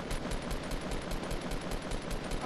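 Rapid automatic gunfire crackles through a Fortnite squad gunfight, a steady stream of evenly spaced shots running loud and continuous with no pauses.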